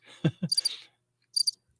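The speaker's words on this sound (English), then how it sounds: "Can you hear this? Crickets?" Two short bursts of high, rapid cricket chirps, the first following a brief low sound, with silence between them.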